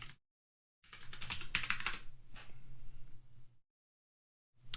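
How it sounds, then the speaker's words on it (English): A password being typed on a computer keyboard on macOS: a quick run of close, crisp key clicks for about three seconds, framed by silence. "Again, we enter the password."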